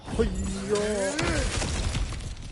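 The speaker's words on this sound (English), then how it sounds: "back to smashing through things for fun and profit" Breakable objects shatter and crack as they are smashed in the game God of War Ragnarök, with a voice speaking over the crashing debris throughout.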